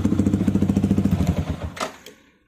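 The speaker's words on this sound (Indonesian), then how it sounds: "Raungannya halus teman-teman, nggak kayak knalpot yang sebelumnya." A motorcycle fitted with a DOS aftermarket exhaust runs close by with a soft, smooth note, a fast steady pulse that swells briefly and then dies away.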